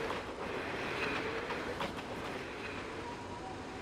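An eight-car electric train in the A-Train Exp railway simulation game runs steadily with continuous rumbling and faint rhythmic wheel clatter, moderately loud with no voices.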